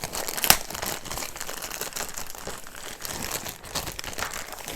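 A plastic bag holding a diamond art canvas crinkles and rustles steadily up close as the canvas is pulled out, with one sharper crackle near the start and no talking.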